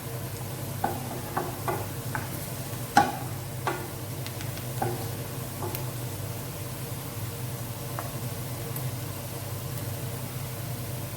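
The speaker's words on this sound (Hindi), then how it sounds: "अब इसमें ये चॉप की हुई प्याज जाएगी। इसे लाइट ब्राउन होने तक हमने पकाना है।" Chopped onions fry in a pan for dal tadka, a steady low sizzle running throughout with occasional clinks and stirring taps of a spoon against the pan.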